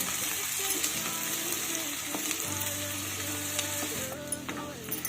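Chopped onions fry in hot oil in a pan for chicken posto, stirred continuously until light brown: a steady close hiss of sizzling with occasional clinks and scrapes of the spoon, with a low background hum.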